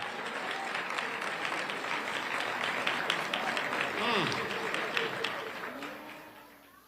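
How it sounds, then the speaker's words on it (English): Audience at a police community relations awards ceremony applauding, sustained clapping with cheering and voices mixed in, fading out toward the end. "Round of applause for that."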